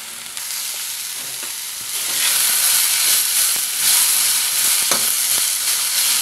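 Pumpkin pieces with turmeric sizzle in a pan for a chutney, with scraping stirs over steady frying that grows louder and hissier partway through, close up and without talk.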